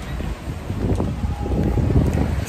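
Steady wind buffeting the microphone outdoors, a low rumbling roar with gusts rising and falling throughout.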